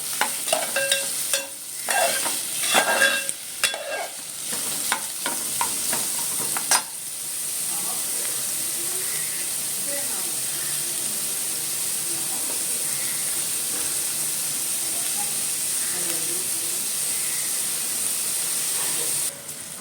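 Chopped onions frying in oil in a pan. Several seconds of stirring scrapes come first, then a loud steady sizzle hisses on alone.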